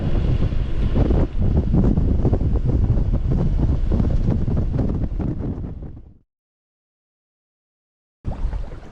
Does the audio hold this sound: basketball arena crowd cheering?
no